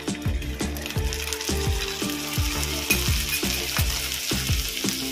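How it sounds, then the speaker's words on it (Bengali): Grated onion sizzles steadily in hot oil in a pan while cooking Kanyakumari-style pomfret curry, with a spoon or spatula clicking against the pan in a regular stirring rhythm, close and continuous without talk. "আমি এবার দেব ঘষে রাখা পেঁয়াজ।"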